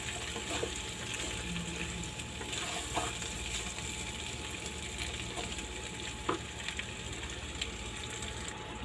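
Broth goes into a pan of chicken atchara, giving a faint, continuous sizzle and bubbling with scattered small clinks, with no one speaking.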